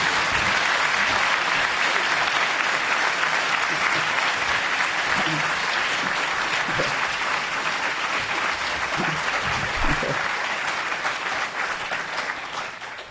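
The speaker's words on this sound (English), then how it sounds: "can you give her a tremendous round of applause and a welcome" An audience applauds to welcome a speaker at a climate justice lecture, with dense, sustained clapping that is loud and even throughout and eases off slightly at the end.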